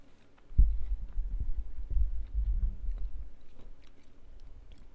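Someone chews a cookie close to the mic, with soft, muffled crunches and bites over a few seconds that gradually settle into quieter chewing.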